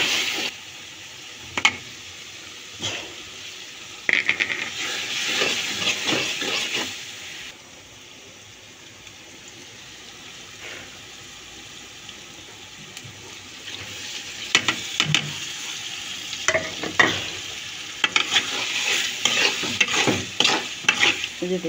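Shrimp stir-fry in a hot pan with a steady sizzle, while a utensil scrapes and stirs in repeated bursts close by; no one speaks.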